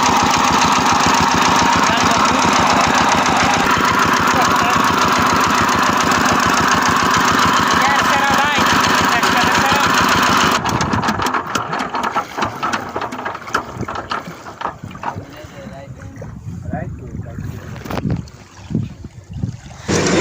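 A motor boat engine drones steadily and loudly while crossing a river, the run slowing and breaking up near the end as the boat comes in, with wind buffeting the microphone throughout.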